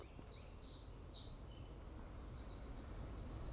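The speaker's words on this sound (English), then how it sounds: "listening to the birds singing" Faint high-pitched bird chirps and whistles in the woods, a string of short notes leading into a longer trill, over a low outdoor rumble.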